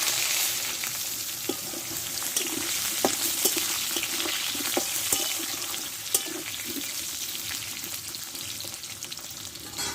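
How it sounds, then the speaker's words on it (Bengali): Potatoes frying in hot oil with panch phoron and a torn bay leaf, a dense steady sizzle with scattered crackles and a few soft scrapes of stirring, close and continuous, no talking. "এবার আলুগুলো কষে নেবো তেলে"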